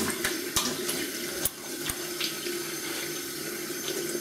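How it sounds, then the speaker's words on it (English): Cold tap water runs into a sink during a face rinse, a steady close splashing stream broken by a few sharper splashes as water is scooped and patted, with no talk. "Cold water rinse."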